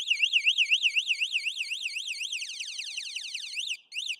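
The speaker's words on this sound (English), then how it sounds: "when the bike is locked and I continue to move it, it's going to give me a warning. And if I keep moving it," Anti-theft alarm on an Electric Bike Company Model E cruiser e-bike, a loud electronic siren warbling rapidly up and down, continuous for about four seconds with a brief gap near the end.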